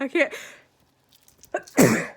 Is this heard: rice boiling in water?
no